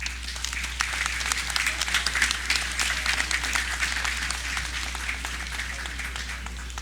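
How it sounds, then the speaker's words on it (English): Audience at a National Heroes Day ceremony applauding an honoree, a sustained, moderately loud patter of many hands clapping, with a steady low electrical hum underneath. "Another round of applause."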